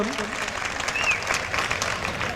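Listeners at a 2017 Urdu poetry mushaira in Digras clap together in a sustained burst of applause, a dense crackling wash of many hands, with a voice briefly heard at the start.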